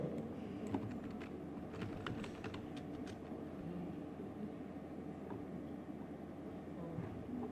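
Light typing on a computer keyboard during a lesson on configuring a computer, a brief cluster of quick clicks early on, then faint scattered taps under a quiet room hum.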